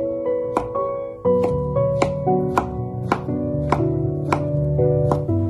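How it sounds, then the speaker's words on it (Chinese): A knife strikes a cutting board in steady, evenly spaced chops while shiitake mushrooms are minced, each chop loud and close, under a sustained tonal hum. "把它切成薄片，再改刀我们把香菇给它切成末"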